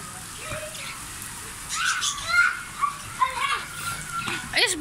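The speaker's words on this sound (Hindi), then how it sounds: "बहुत तेज बारिश हो गई है, बहुत तेज।" Heavy rain pours down in a steady, broadband hiss, with children's voices and a few bird chirps rising over it toward the end.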